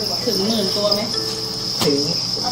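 A dense, steady chorus of chirping crickets on a cricket farm fills the space, loud and continuous, with faint murmuring voices in the background.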